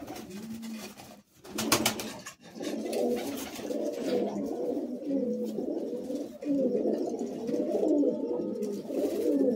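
Old-bloodline Madrasi pigeons coo steadily and close by, their low throaty phrases overlapping almost without pause, with a few brief sharp rustles or knocks early on.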